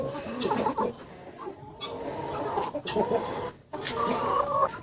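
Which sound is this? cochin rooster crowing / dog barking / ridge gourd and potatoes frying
cochin rooster crowing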